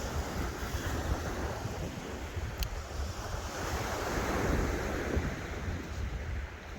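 Wind buffets the microphone beside the sea at Southbourne Beach pier in Dorset, with waves surging and washing in a continuous low roar, no voices.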